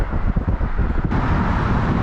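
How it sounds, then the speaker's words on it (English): Strong gusting wind on a bridge in Wuchang, China, buffets the microphone with loud, continuous low rumble and roar, no voices. "It's very windy."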